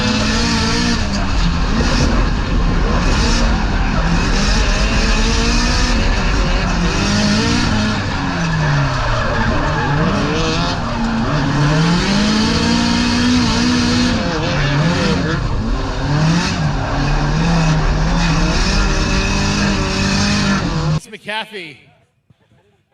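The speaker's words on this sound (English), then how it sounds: "They just simply buried the throttle and kept going." SR20-powered drift cars scream at full throttle during a final drift competition round, engines wailing and tires squealing in a loud, sustained roar that cuts off abruptly near the end, with a commentator's voice running over it.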